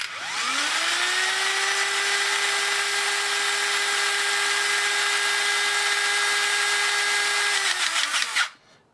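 A Robo Crimp hydraulic crimping tool powers up and runs with a steady, loud motor whine that climbs in pitch at the start, holds evenly for about eight seconds, then cuts off abruptly.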